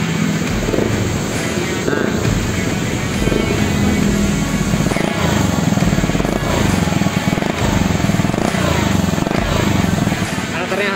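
An Aprilia SR200 engine with an Arrow Urban aftermarket exhaust and DB killer revs repeatedly with a throaty, steady exhaust roar, loud and close, while a person talks over it.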